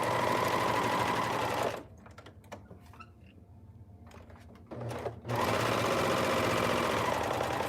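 A sewing machine stitches the curved seam of a shift dress, running in a loud, fast, steady whir. It stops briefly in the middle, leaving soft clicks and taps, then starts up again and runs on. No one speaks.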